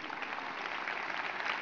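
Steady crowd applause at a political campaign rally in Badalona, a dense even patter of many hands clapping, moderately distant and continuous, with no talk over it.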